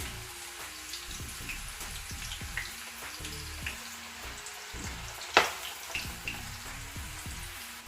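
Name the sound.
bitter gourd slices frying in a pan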